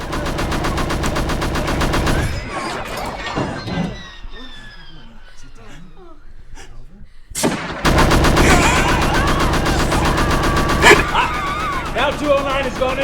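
The ED-209 robot fires its primary cannons in loud, rapid machine-gun bursts, with a quieter gap in the middle and people shouting amid the chaos.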